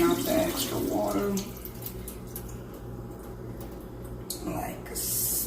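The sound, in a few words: water draining off in a kitchen sink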